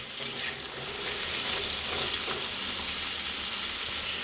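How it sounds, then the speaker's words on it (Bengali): Mixed vegetables and greens stir-fry in a hot wok with no tempering, making a loud, continuous sizzle with faint stirring throughout. "সবজিগুলো দিয়ে দেবো। আমি এখন কোনো ফোড়ন দেব না, সবজিগুলো ভালো করে একটু নেড়ে নেব।"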